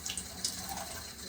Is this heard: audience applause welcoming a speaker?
no